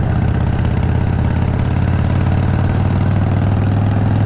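A 2016 Harley-Davidson Fat Bob motorcycle engine rumbles loudly and steadily, a deep continuous throb close to the listener without pauses or voices.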